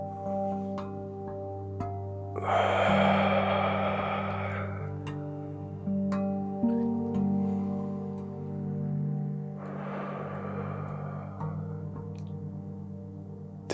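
Two long, airy breaths during a beginner yoga flow, each lasting a couple of seconds and well spaced apart, over a soft, steady background of sustained musical tones.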